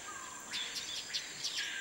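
Golden parakeet (Golden Amazon), a scarce parrot, gives a series of short, bright chirping calls, five or six in quick irregular succession, fairly faint against a steady high hiss.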